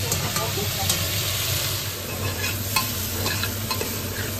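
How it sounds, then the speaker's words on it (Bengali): Crab fries in a wok with spices, ginger and onion, with a steady close sizzle while a spatula stirs and scrapes continuously, alone and without talk. "মশলা কষে গেছে আর কড়াইতে করছে এখন কাঁকড়া।"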